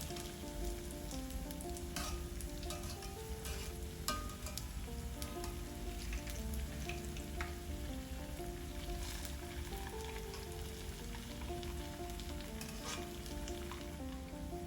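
Ulundu bonda, urad dal fritters, frying in hot oil over a medium flame: a continuous close crackling sizzle, rain-like and steady, with occasional sharper pops and faint tonal hum beneath, no voices.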